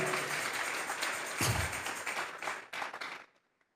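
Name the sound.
congregation clapping hands for God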